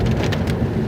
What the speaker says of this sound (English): I'm trying to get somewhere to enjoy the storm